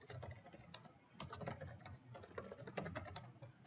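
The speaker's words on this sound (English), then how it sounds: "And I type in, I don't know, whatever it may be" Fast typing on a computer keyboard, faint and close, with clusters of quick clicking keystrokes, a short pause near one second, then more steady tapping.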